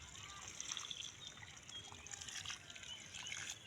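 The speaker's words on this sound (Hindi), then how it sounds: "देखिए रोपाई करने के बाद फिर इसमें पानी डालिए।" Water poured onto freshly transplanted seedlings in a vegetable plot, a steady soft trickling and splashing that runs continuously and fairly quietly throughout.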